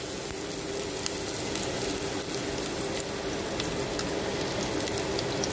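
Onions frying in hot cooking oil, a steady, fine crackling sizzle that holds evenly throughout, moderately quiet and close, with no talking over it.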